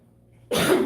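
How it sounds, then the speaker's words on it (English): A single sudden, forceful sneeze bursts out after a quiet moment, close and loud. "Something made me sneeze over here. I'm sneezing again."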